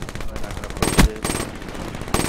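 Gunfire rattles in a search-and-destroy shooter match, several rapid bursts of shots close and loud over a short span, with a sharper crack near the middle.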